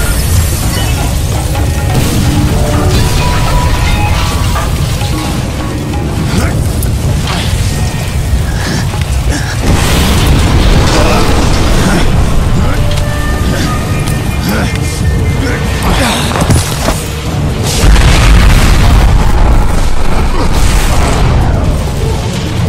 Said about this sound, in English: I predict an imminent detonation within the gravity core generators